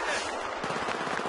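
Rapid machine gun fire in the Battlefield 3 video game, a dense burst of quick sharp shots rattling loudly through the whole moment.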